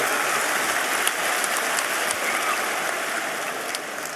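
Audience at an Islamic lecture gives a round of applause, a continuous hissing wash of many hands clapping at moderate distance, steady throughout with no voices on top.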